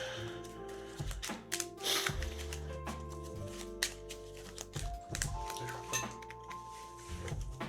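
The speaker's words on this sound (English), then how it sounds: "One last shuffle." Playing cards for a Marvel Champions game are shuffled by hand in short riffling bursts with light taps and clicks on a tabletop, moderately close and fairly quiet.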